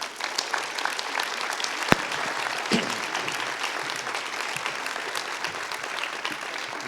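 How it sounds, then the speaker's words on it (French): Warm, sustained applause from an audience at an epigenetics colloquium, dense steady clapping filling the room with a few sharper individual claps standing out. "Donc je vous propose d'accueillir et d'applaudir Vincent,"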